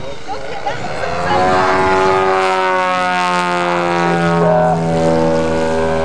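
A large aerobatic model aircraft engine roars overhead at the Elvington LMA model aircraft show, a loud sustained propeller drone whose pitch swells and shifts through a manoeuvre, with a commentator talking over it.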